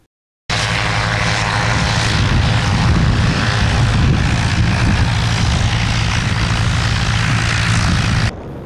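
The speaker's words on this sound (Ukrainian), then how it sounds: "Літальний апарат, що кружляє у небі, це французький винахід 30-х років" A French-designed 1930s-type autogyro circles overhead at an aviation festival, its propeller engine droning loudly and steadily for several seconds before cutting off abruptly.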